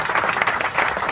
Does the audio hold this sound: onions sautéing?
no